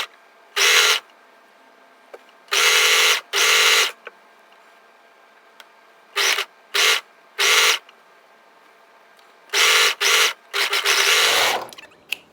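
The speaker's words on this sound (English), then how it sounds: "I'm going to sew down the side to the hem, then from the hem back up the other side" A sewing machine stitches a jersey side seam in repeated short bursts, each run of rapid whirring starting and stopping with quiet gaps between, with a longer run near the end, close and loud with no talk.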